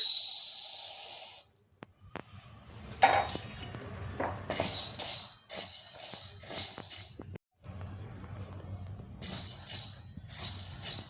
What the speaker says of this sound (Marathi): आता आपण हरभरा डाळ भाजून घेऊया।